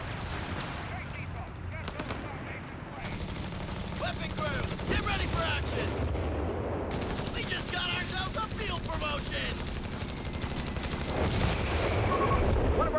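A Company of Heroes 3 2v2 battle sounds off with dense, continuous rifle and machine-gun fire, broken by heavier airburst artillery booms that keep the din steady and loud throughout.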